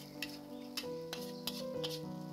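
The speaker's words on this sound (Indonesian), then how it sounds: "masukkan ikan teri yang sudah digoreng. Aduk hingga tercampur merata semuanya." Fried anchovies stirred into sizzling chili tempeh sambal in a pan, with a steady close sizzle under light spoon scrapes and a few soft clicks against the pan.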